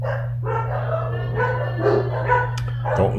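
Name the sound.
dogs barking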